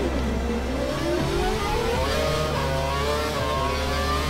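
An F1 race car in F1 2012 accelerates hard, its loud, steady engine note climbing continuously in pitch through the gears, close and alone with no talk.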